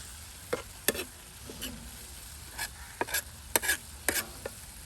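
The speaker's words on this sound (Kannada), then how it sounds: "2 ಸೈಡಲ್ಲಿ ಕೂಡ ಅರ್ಧ ನಿಮಿಷ ಇದು ಒಳ್ಳೆ ರೀತಿಯಲ್ಲಿ ಫ್ರೈ ಆಗಲಿ, ಈ ಥರ ಬೇಯಲಿ" Egg tawa masala frying on a flat tawa, a faint sizzle with several sharp scraping and clinking strokes of a spatula spread irregularly across the stretch.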